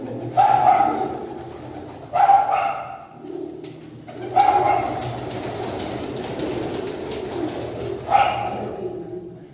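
Pigeons cooing close by in a few distinct bursts with quiet gaps between them, alongside faint low background noise and no speech.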